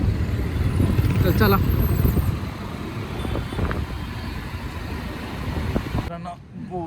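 A car engine runs steadily at low pitch on the way to park, with a brief voice speaking over it.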